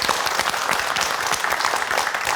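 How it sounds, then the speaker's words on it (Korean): Studio audience applauding in a television talk-show set, steady dense clapping throughout, loud and close with no break. "일단 축하드리고 한번 박수 해주시죠"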